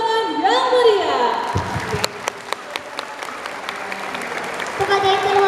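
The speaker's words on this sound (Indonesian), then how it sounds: "Sekali lagi beri tepuk tangan yang meriah." A school audience applauds at an anniversary showcase for SD Negeri 75 Palembang, dense steady clapping from a crowd lasting several seconds, with a voice speaking over the start before the applause takes over.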